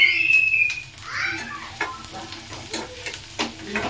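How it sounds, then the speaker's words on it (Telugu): Onions fry in a pan with a steady sizzle, overlaid by repeated scraping stir strokes as they are turned; close and moderately loud, no talking. "సో ఫ్రై అయిపోతున్నాయి ఆనియన్స్"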